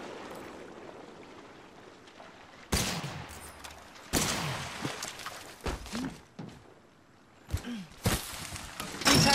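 Gunfire in the battle royale game Apex Legends: several loud bursts of shots cut in sharply and then stop, separated by quieter stretches with faint movement, heard close with no talk.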